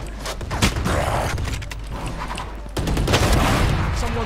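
Loud gunshots from the tactical shooter Valorant, a series of close sharp shots and bursts with game effects in between, a heavier volley arriving partway through.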